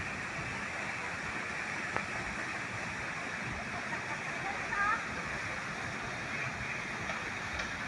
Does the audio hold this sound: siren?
no